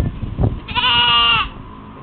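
A goat bleats once nearby on a farm, a loud, wavering, nasal cry lasting under a second, following some soft rustling and handling noises.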